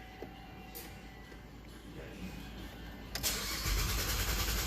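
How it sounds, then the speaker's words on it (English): A 2011 Chevy Traverse with a 3.6L engine cranks in clear flood mode, the starter churning steadily before the engine noise swells louder toward the end, close and continuous. "we're going to clear flood crank it"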